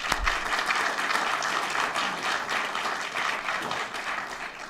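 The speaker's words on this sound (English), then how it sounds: "So let's give them a round of applause real quick." A school board meeting audience applauds coaching staff with a dense, sustained round of clapping that holds fairly even throughout, with no voices over it.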